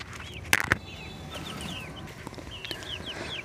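Fancy chickens on a farm, including American Brahma, clucking softly with a couple of sharp louder squawks near the start and scattered bird chirps in the background.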